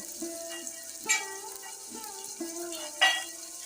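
Chopped onion frying in a hot pan until brown for spicy prawn rice, a steady soft sizzle with occasional stirring scrapes and light pan knocks, close and moderately quiet with no talking.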